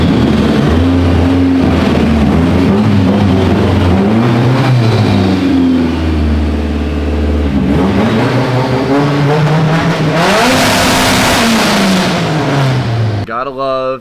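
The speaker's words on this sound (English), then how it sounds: "Gotta love an SR that revs to 8 grand." A Nissan fitted with an SR engine revs hard on a dyno toward 8000 rpm. The close, loud engine note climbs and falls in repeated pulls, then screams highest just before cutting off abruptly.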